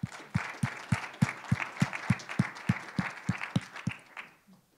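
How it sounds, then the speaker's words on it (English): Conference audience applauding committee members: a run of evenly spaced, rhythmic claps over a thinner spread of clapping that tapers off and fades at the end. "please join me in giving them a round of applause for their service"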